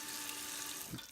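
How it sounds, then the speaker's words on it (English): Water streams steadily from a kitchen tap while dry beans are rinsed, giving a constant, fairly close hiss with a soft splash near the end. "we begin with rinsing them"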